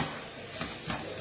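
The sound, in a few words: stirring onions, garlic and vegetables in a saucepan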